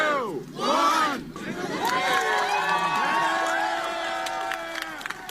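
A crowd roars with loud shouts and whoops as a man finishes his 40th consecutive rotisserie chicken in 40 days at a store, the voices sustained and close for several seconds with no distinct clapping standing out.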